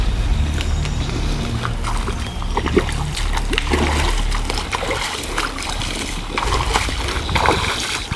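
Water splashes and sloshes loudly as someone wades across a creek, a continuous close churning with irregular bursts, and no talk over it.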